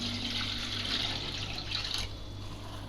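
Warm water poured into a bowl of dry ingredients for qatayef batter, a steady rushing pour that continues for about two seconds and then tapers off, heard alone over a low hum.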